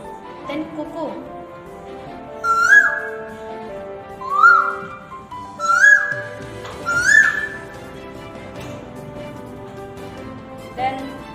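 A person whistles an imitation of a cuckoo call: four clear, short, high whistled phrases with gaps between them, heard close and fairly loud, followed by a brief fainter whistle near the end.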